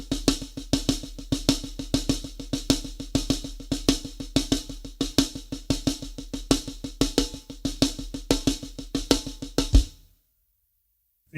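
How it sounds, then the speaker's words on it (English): Drum kit played as an inverted paradiddle rudiment with kick drum reinforcing the accents, a steady fast stream of sharp strokes with punchy low thumps on the accented notes, close and alone before stopping abruptly. "So the next rudiment we're going to try is the inverted paradiddle."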